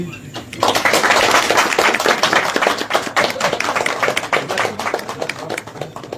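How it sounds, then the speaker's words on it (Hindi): A crowd claps at a gathering where a hunger strike is being broken, dense rapid applause running loud and continuous for several seconds, with voices talking over it. "बहुत बहुत ताली बजाओ।"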